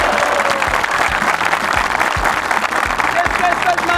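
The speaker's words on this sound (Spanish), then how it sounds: "Un aplauso para el servicio de extensión." An outdoor field-day audience celebrating an agricultural extension service's 60th anniversary breaks into steady, close applause, with dense clapping throughout and a few voices mixed in.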